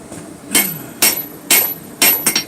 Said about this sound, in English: I come back and hit it with the round side of my hammer